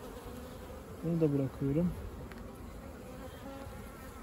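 Honeybees hum around an opened hive while brood frames are pulled out to split the colony. A steady, close buzzing fills the air, and someone briefly speaks over it.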